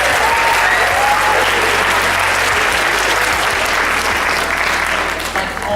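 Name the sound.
audience applause at film festival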